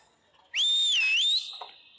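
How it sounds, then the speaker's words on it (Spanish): One loud, sustained human whistle lasting under a second, starting sharply, dipping in pitch and rising again, then trailing off, heard alone and close. "yo sé silbar durísimo"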